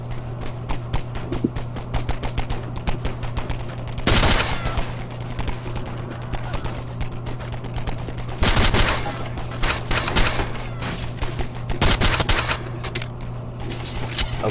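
Gunfire in a Garry's Mod NPC battle, with rapid crackling shots running throughout and louder bursts of heavy fire at several points, all over a steady low hum.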